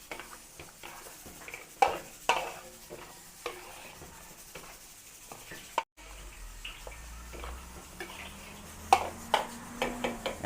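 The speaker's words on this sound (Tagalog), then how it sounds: "Lagay din tayo ng kaunting ketchup. Haluin lang po natin." A spoon stirs a Filipino home-cooked sauce with a little ketchup in a pot, with soft irregular scrapes and clinks, fairly quiet, and a low steady hum in the second half.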